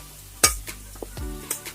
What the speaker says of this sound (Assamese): কাটি থৈ দিয়া আলু আৰু মৰিচা শাকখিনি ইয়াত এনেদৰে দি দিয়া গৈছে আৰু ভালদৰে লৰাই দিয়া গৈছে